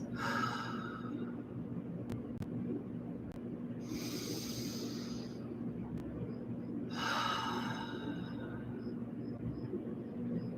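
Slow, deep breaths repeat in a quiet room, with long airy exhales in soft waves and faint clicks in between.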